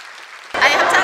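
Audience at a choir concert bursts into loud applause and cheering about halfway through, after a quieter lead-in.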